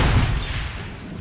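A grenade going off in the Deadpool video game: a single loud, close, low boom that fades away over about a second.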